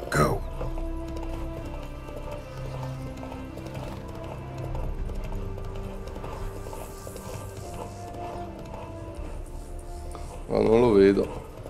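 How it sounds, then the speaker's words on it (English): Hooves of a horse clip-clopping in rhythmic strides in The Witcher 3: Hearts of Stone, steady and close under game ambience and faint voices, ending with a loud whinny. "Spooking my horse."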